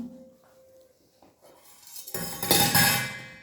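Fried fish being served onto a plate at a home lunch, with utensils clinking and scraping against dishes, quiet at first and then a louder burst of clatter near the end.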